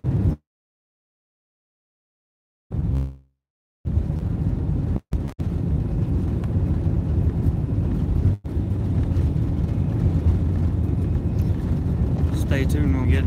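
A Cebu Pacific Airbus A320 on its takeoff roll at Cebu Mactan gives a loud, steady broadband roar with wind buffeting, after a brief silent gap and a short burst, with a couple of sharp dropouts partway through.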